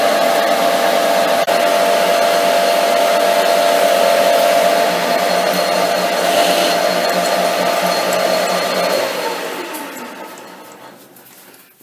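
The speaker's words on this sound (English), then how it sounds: "Running the tool upside down and the lathe in reverse does, I find, help to keep some of the rubbish contained." Loud, steady whirring drone of a lathe running in reverse while turning old mild steel black bar, holding constant for several seconds before winding down and fading out.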